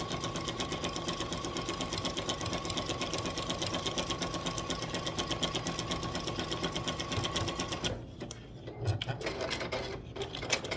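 A sewing machine runs steadily in close, loud, fast zigzag stitching of bias tape onto a quilt, then pauses and gives a few short bursts.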